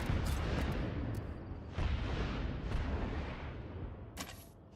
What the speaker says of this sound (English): Those are some big explosions.